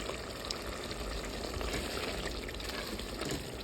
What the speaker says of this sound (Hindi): दाल यहाँ ऐड होगी।